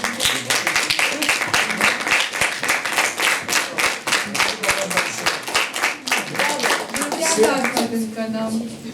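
An audience claps at a republic-wide recitation contest devoted to the year of the Ossetian Nart epic, with loud, dense and fairly rhythmic applause and a voice briefly audible toward the end.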